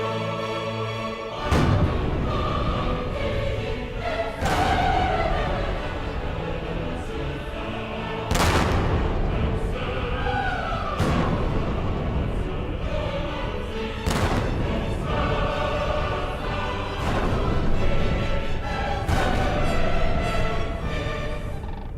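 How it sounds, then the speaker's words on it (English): A saluting battery of seven cannon fires at a frontier fort in the Canadian wilderness, each shot a loud, sharp boom with a rolling echo, spaced a few seconds apart in a slow, regular series. "A moment not lost on the governor, who salutes the party with 7 of these cannon."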